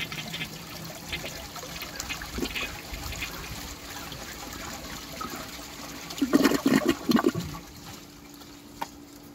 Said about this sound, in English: here's the flush.